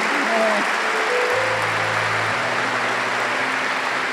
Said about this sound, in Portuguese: E eu queria que vocês aplaudissem essa verdade